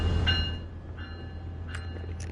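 Passenger train standing at a station, low steady rumble of the carriage with faint brief squeaks and clanks, no voices.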